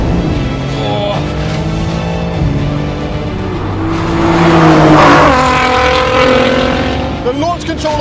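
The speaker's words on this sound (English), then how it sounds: "The launch control on that GTR is just not as quick as these two, but he's just shot ahead of me." A BMW M4, Nissan GTR and Audi RS5 launch together in a drag race: layered engine roar swells and climbs, then a short tire squeal near the finish.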